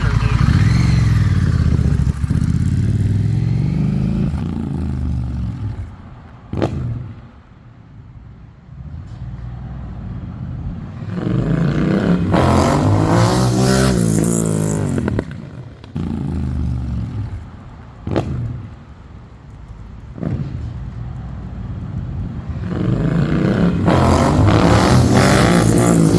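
A Honda Rebel 1100 cruiser motorcycle with a freshly flashed ECU, revved hard to about 4,000 RPM several times, loud and close, its engine rising and falling in repeated bursts between idle stretches, with voices over parts of it.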